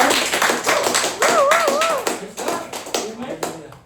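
A church congregation claps during a worship service, a quick patter of hand claps heard under a person speaking or singing over them.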